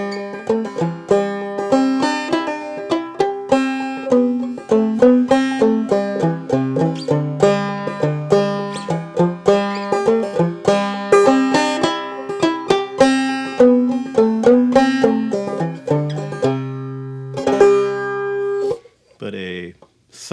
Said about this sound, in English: A downstroke only version would be something like this.